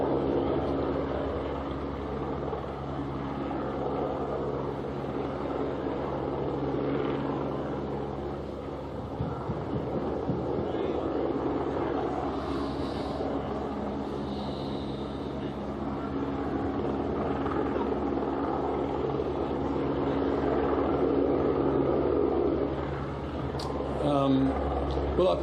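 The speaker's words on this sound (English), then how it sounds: "we've got a Channel 9 chopper right above us" A news helicopter hovers directly overhead, its steady low rotor drone filling the scene at a constant level, with people talking underneath it.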